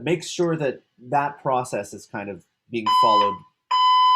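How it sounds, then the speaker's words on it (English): A person speaks, then a shrill, steady smoke detector alarm tone sounds twice, the second blast cutting in sharply near the end. "I'm sorry, that's my fire alarm."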